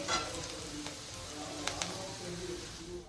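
Onions frying in a pan until brown for a vegetable biryani, giving a steady close sizzle with a few brief stirring clicks and scrapes, no talk.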